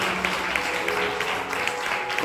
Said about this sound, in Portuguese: Aplauda mais forte se você puder.